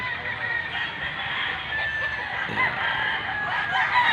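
Roosters at a gamefarm crow repeatedly and overlap, with hens clucking among a dense, steady flock noise that carries throughout.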